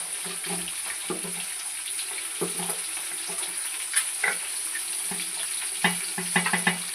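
Fish frying in a pan gives a steady oily sizzle, with soft stirring and scraping clicks and a few sharper spatters over the hiss.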